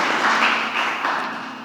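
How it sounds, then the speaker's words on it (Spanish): An audience applauds to welcome a book presenter at a Spanish-language book launch, a steady wash of clapping from a crowd that holds evenly and then tapers slightly. "Recibámosle, por favor, con un muy fuerte aplauso"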